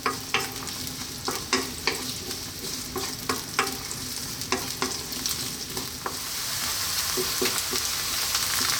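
Onion and garlic frying over fairly high heat in a pan, with repeated scraping stirs that tick and clack in an irregular rhythm over a continuous sizzle that swells louder toward the end, close and without voices.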